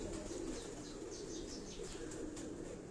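Pigeons of various breeds on a rooftop loft in Karachi's Defence area, cooing in a soft continuous low murmur with faint chirps above, steady and moderately close.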